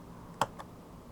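Two quick mouse clicks while working in AutoCAD with the chamfer command, a sharp near click followed a fraction of a second later by a softer one, faint against quiet room tone.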